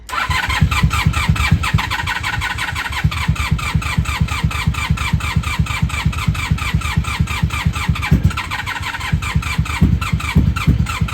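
A 1994-2003 Honda Magna 750 V-four engine being rebuilt after a wreck cranks with rapid starter chugging, then fires and catches into an uneven, throbbing idle up close.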